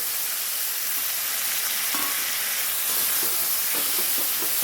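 Ground spice paste hits fried onions in a hot pan, giving a steady close sizzle and hiss with a few soft stirring knocks near the end.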